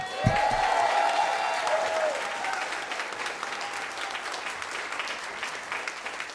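A comedy club crowd at Gotham Comedy Club applauds a comedian, starting with a brief sharp burst and settling into sustained clapping that gradually softens, with some crowd murmur underneath.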